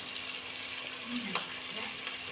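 Onions frying in oil in a pan for vegetable biryani, a soft steady sizzle with faint stirring scrapes and a brief clatter partway through, heard up close.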